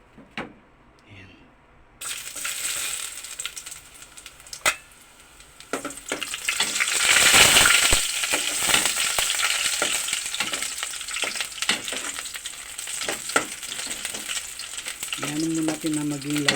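Ginger drops into heated cooking oil and erupts into a loud, steady sizzle that keeps crackling close by, with a few utensil knocks.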